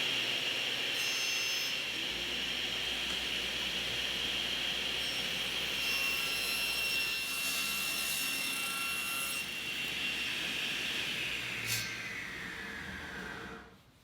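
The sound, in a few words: table saw cutting 45-degree chamfer on wood tabletop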